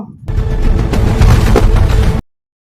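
A single heavy gunshot sound effect in a Bangla comedy drama scene, a loud booming blast with a dense rumbling tail that lasts about two seconds before ending sharply in silence.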